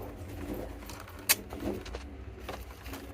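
Pigeons in a loft coo softly and intermittently against low background rumble, with one sharp click or knock partway through; no voices.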